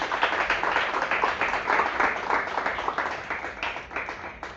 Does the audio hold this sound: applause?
yes